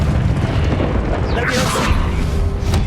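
A Confringo blasting spell bursts in Hogwarts Legacy, a booming magical explosion with a whooshing sweep over steady game ambience, while a voice speaks around it.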